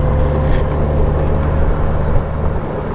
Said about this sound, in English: I'll wait till the monster truck gets by me here. I can't hear myself think for those tires.